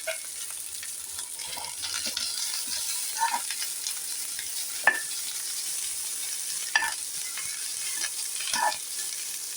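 A spoon stirs poha upma with peanuts, carrot and coconut in a pan, giving a soft steady sizzle broken by occasional scraping clinks against the metal. Quiet and close, with no talking.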